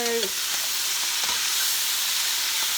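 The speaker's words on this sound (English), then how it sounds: "caramelize the onions a little bit" Onions caramelize in a pot for lentil soup, giving off a loud, steady, close-up sizzle and hiss that holds evenly throughout, with no talking.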